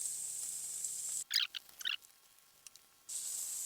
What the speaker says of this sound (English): Just add the king prawn on our pan.